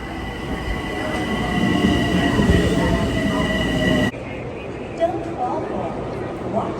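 A New York subway train rumbles loudly with steady rail noise and high squealing tones, then cuts to a quieter platform ambience with faint clicks and a brief knock.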